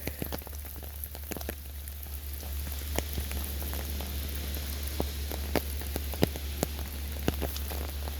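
Rain falls steadily on outdoor ground, a constant hiss with scattered nearby drip taps and patters, moderately loud and close, with no talk over it.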